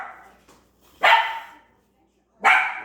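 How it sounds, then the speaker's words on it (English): A few dogs bark excitedly indoors at a home, with two loud, close bursts of barking separated by a brief pause and a faint earlier yip. "Oh, dogs are going crazy."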